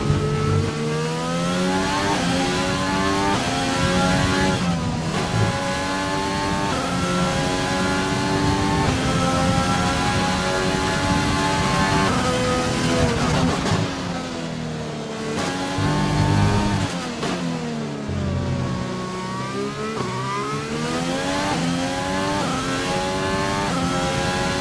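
A Formula 1 car engine in F1 2020, a Renault, screams loudly and continuously, climbing and dropping in pitch as it shifts up through the gears, with no talk.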